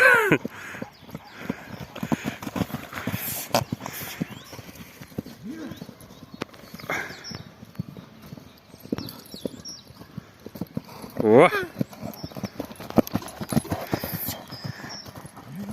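A Percheron horse trots with steady clip-clop hooves, loud and close, as people talk over it and a crow caws now and then.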